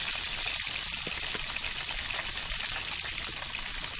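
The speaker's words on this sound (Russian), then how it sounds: "Жарится на сковородке, в которой масло бурлит." Fish sizzles in bubbling sunflower oil in a frying pan, a steady close crackle and hiss with occasional louder pops, no voices.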